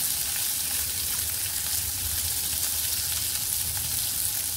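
Onion, chili and curry leaves fry in a hot pan with a loud, dense, steady sizzle that holds without a break.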